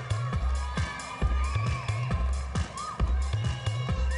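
A large audience at the Miss USA 2014 preliminary swimsuit competition cheers and applauds the pageant contestants, a steady roar of crowd noise with shouts rising through it, moderately distant and continuous.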